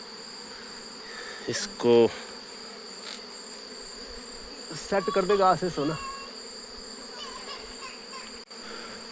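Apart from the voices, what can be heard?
swarm of honey bees buzzing around a hive box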